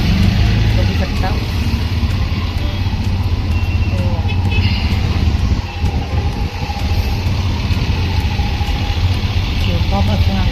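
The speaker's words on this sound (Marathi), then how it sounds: "आम्ही वाशीच्या हायवेला आहे, पण प्रचंड ट्रॅफिक आहे" Heavy traffic on the highway near Vashi rumbles with idling and moving car and truck engines, a loud, continuous low drone with occasional passing vehicles and some voices in the background.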